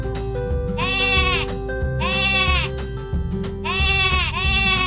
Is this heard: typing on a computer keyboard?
no